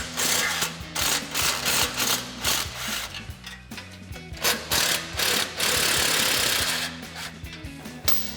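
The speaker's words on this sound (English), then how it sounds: "Same thing, impact and 14mm socket." An impact wrench with a 14mm socket rattles continuously in close, loud hammering bursts while removing exhaust spring bolts in front of the main muffler of a 2024-2025 Toyota Tacoma, with brief pauses between runs.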